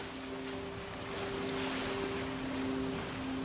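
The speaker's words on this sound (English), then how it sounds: "As it moves through the water, the bow of a ship creates a constant wave." Steady rushing water along the hull of a moving ship, a continuous broadband wash with a low mechanical hum beneath, fairly even and close throughout.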